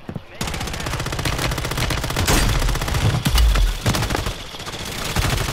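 Rapid, continuous automatic gunfire in Call of Duty, loud and close, with dense repeated shots running nearly the whole time and a few heavier booms in the middle.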